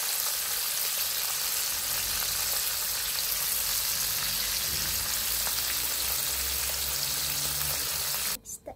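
Fish frying in a pan of hot oil, a steady dense sizzle and crackle held close and loud throughout, cutting off abruptly at the end.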